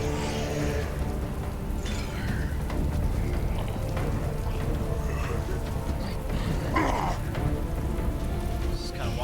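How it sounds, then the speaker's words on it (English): Steady, dense rain pours in the Resident Evil 2 video game, a constant hiss of drops on surfaces with faint low rumbles underneath, without pauses or voices. "Rain effects, dude. Crazy."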